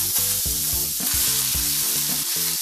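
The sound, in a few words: potatoes sautéing in oil in a pan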